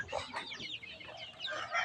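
Domestic desi chickens cluck in a short, uneven run of close, moderately loud calls with no voices over them.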